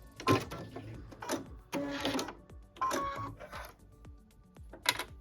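Sewing machine back stitching the seam of a pieced quilt block for a stocking, with short bursts of mechanical whirring and clatter broken by brief pauses, close and fairly quiet, no talking.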